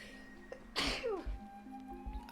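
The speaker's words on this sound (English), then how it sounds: "Apologies for jumping in and then immediately sneezing." A single sharp sneeze bursts out near the mic, loud and brief, followed by a faint exhale over a quiet background hum.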